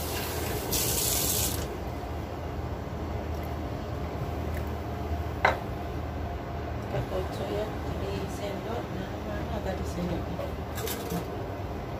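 Tap water poured into a pan of sweet and sour sauce for a chicken dish, a brief gush in the first couple of seconds followed by a steady low wash of kitchen noise.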